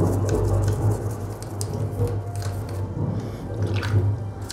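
A fishing reel is washed clear of gunk with soapy water: close, continuous wet dripping and squishing with small splashes over a low steady hum.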